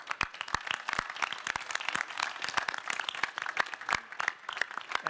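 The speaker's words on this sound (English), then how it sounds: "a round of applause for the teams here" Scattered clapping from a modest crowd at a robotics competition award ceremony, individual claps sharp and irregular, fairly quiet and continuous throughout.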